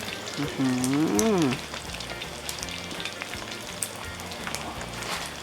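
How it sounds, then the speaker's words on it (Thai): Food frying in hot oil until golden and crisp, a steady soft sizzle and crackle running throughout, with a brief spoken phrase near the start. "ต้องทอดแบบใจเย็นๆเนาะ"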